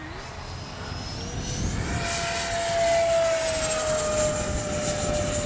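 Freewing 70mm Yak 130 radio-controlled jet flying overhead outdoors, a loud steady turbine whine and rushing roar with a pitch that shifts as it passes, sustained throughout with no talk.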